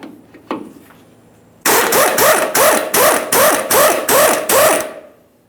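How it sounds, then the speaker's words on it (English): An 18mm sway bar link mounting nut on a 2015-2020 Ford F-150 is loosened with a tool: about eight loud, close, rhythmic mechanical bursts in quick succession, with no talking. "We'll remove our 18mm headed mounting nut down along the bottom area here."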